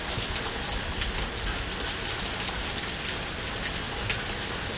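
Intense summer rainstorm pouring steadily and loudly on surfaces, a dense continuous hiss with no lightning seen; any thunder is buried and not distinguishable under the downpour.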